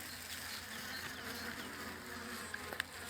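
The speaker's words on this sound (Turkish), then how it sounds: "Şimdi Bakayım buradaki arılar şurubu çekebilmişler mi?" A dense, steady hum of many honeybees buzzing close by in a hive during winter syrup feeding, continuous throughout, with a couple of faint taps near the end.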